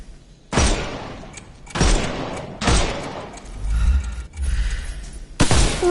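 Gunfire from Sherlock Holmes: Chapter One comes as a series of sharp, loud shots, about five distinct blasts each decaying into a brief rumbling tail, spaced roughly a second apart with no voices.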